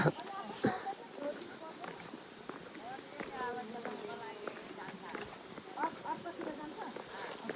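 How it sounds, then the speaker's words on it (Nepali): A wild buffalo walks along a village trail near Chomrong on the Annapurna Base Camp trek in Nepal, its hooves clopping in a loose, uneven rhythm over steady outdoor ambience while people talk throughout. "जङ्गली भैँसी रहेछ"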